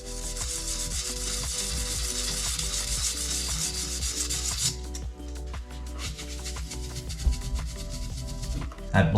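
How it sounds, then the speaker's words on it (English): Filled scratch repair on a shower floor being hand-sanded, giving a continuous close rubbing rasp that lasts several seconds, slackens midway, then resumes in short strokes. "Okay, I'm gonna give that a little sand."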